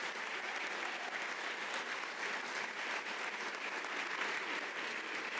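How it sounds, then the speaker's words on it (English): A conference audience gives a round of applause for the panelists, an even, steady wash of clapping that runs unbroken at moderate loudness throughout, with no voices over it. "But let's extend another round of applause to our panelists, Secretary Hilda Soli"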